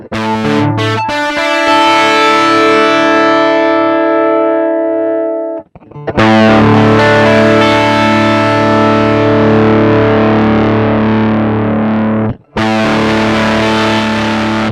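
A guitar run through the Boss GP-10's hex fuzz distortion with poly balance set, playing loud sustained chords across different strings. Two short breaks split the passage into three sections.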